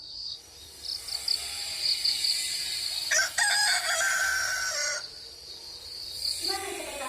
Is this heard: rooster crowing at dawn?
yes